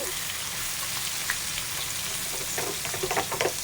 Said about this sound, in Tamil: மீன் வந்து ஒரு சைடு வெந்துடுச்சு இப்போ திருப்பி போட்டுக்கலாம்